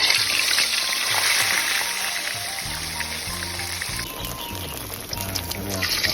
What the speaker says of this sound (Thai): น้ำมันร้อนแล้วครับเอาปลาลงไปตอดเลยครับ